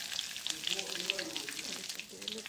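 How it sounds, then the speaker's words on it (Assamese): Bay leaves and cumin seeds fry in hot mustard oil with a soft, continuous crackling sizzle and scattered pops, while a voice talks quietly over it. "এইখিনি অকণমান সময় ভাজি লম"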